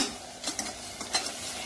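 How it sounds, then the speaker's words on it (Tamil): Garam masala and coriander powder are stirred into boiling water in a pot for moong dal pulao, giving a steady bubbling hiss with a few soft scraping strokes of the spoon. "இதையும் போட்டு நான் நல்லா மிக்ஸ் பண்ணிக்கிறேன்."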